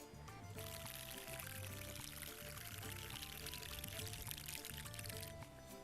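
Rain-like rushing and pouring sound produced at a facheiro cactus, a water-storing cactus species, loud and continuous for several seconds with no one speaking.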